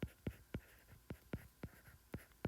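A pen or marker writing out a triangle-area formula during a math lesson, quick rhythmic strokes about four per second, crisp and close, quiet background, no talk.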